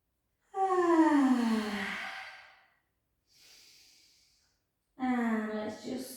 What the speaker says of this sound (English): take a beautiful breath in.